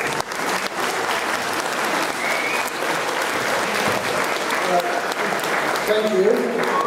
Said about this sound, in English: May I request all you to have a big round of applause to His Holiness